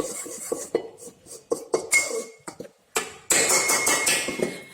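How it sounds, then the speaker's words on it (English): Ingredients for an eggless Hokkaido milk bread dough are roughly mixed in a bowl, with a series of uneven clattering knocks and clinks of the utensil against the bowl, close and fairly loud. "I'm just like roughly mixing it."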